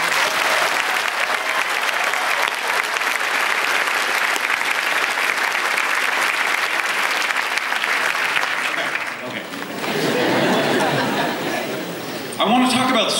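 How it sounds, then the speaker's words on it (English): A graduating class at a 2015 college commencement applauds itself, a dense, steady roar of clapping that fills the hall for about nine seconds before thinning briefly and swelling again, with a few chuckles mixed in. "I think you should also start things off by giving yourselves a big round of applause because you're graduating"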